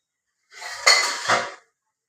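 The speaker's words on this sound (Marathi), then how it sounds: "झाकण ठेवते 5 मिनिट." A lid is set onto a cooking pot while a masala dish simmers, giving one short metallic clink and scrape, close and clear against silence.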